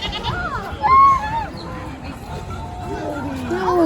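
A goat bleats among the penned livestock at an outdoor trade-day market in Canton, Texas, with a few short wavering calls rising over steady crowd chatter and nearby voices.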